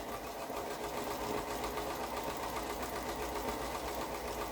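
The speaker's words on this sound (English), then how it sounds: "Right, just go all the way down. Straight sewing." A sewing machine runs steadily, stitching a straight seam through quilt pieces, a continuous even whirring hum with a fine rapid needle rhythm, close and unbroken for several seconds.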